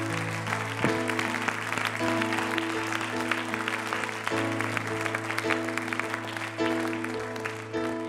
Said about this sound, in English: would you clap hands to the Lord for what he has in store